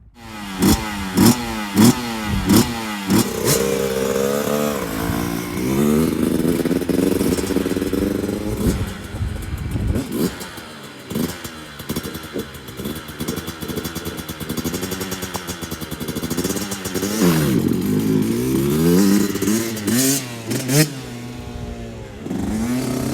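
Yamaha YZ85 dirt bike engine cranking, catching and revving repeatedly, loud and close, with rising and falling engine pitch and a few sharp throttle blips throughout.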